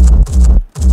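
A raw trap kick drum sample before gating, three heavy, booming hits in quick succession, loud and close, each with a dense low body and a bright attack.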